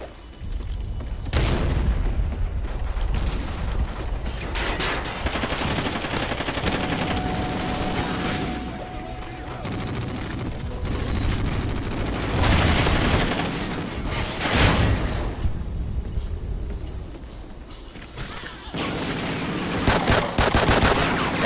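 Call of Duty Ghosts multiplayer gunfire rattles in repeated bursts of rapid shots and booming blasts, loud and close, with brief lulls between volleys over about twenty seconds.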